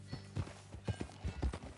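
Horse hooves beat out a steady gallop in a Red Dead Redemption 2 ride, regular clip-clop strikes roughly every half second, close and moderately loud with no talk over them.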